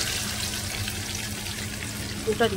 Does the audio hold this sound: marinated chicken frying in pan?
yes